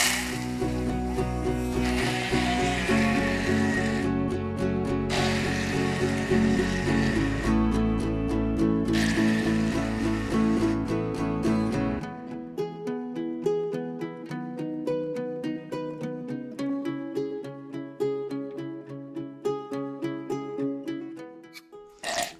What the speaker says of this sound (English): so now I'm just going to whiz it down. It'll make a bit of noise.